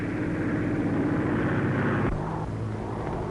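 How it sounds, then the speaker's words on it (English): An airplane arrives with a steady, droning propeller engine roar in an old 1940 film soundtrack, holding level and then dropping abruptly to a quieter hum partway through, with no speech. "And now, they're arriving by airplane."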